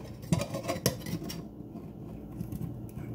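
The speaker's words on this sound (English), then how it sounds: "put our lid on." A lid is fitted onto a drink shaker, giving a few short metallic clinks and scrapes close by early on, then a quieter stretch with light handling noise.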